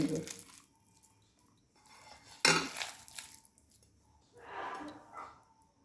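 Milk powder is mixed by hand into sago dough in a bowl, giving soft, intermittent scraping and clinking bursts, one sharper knock in the middle, fairly quiet and close.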